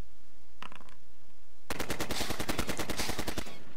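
Rapid automatic gunfire from the World War II tactical game Heroes of Normandie, a loud sustained burst of evenly spaced shots lasting about two seconds after a brief faint sound and quiet.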